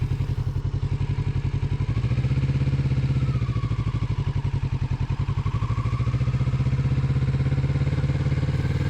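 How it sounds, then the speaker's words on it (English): A 2024 Kawasaki Z650RS 650 twin engine burbles steadily while riding, a close, loud, low throbbing pulse that holds for the whole stretch with no talking. "I actually like the burbles the 650 engine makes."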